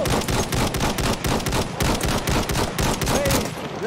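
Gunfire in the video game Battlefield 1: a loud, continuous stream of rapid rifle and machine-gun shots in dense overlapping bursts, without pause.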